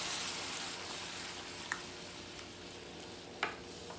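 Chicken breast sizzles in a pan with a steady hiss at moderate volume, while two distinct scraping clicks mark it being moved around. No one speaks.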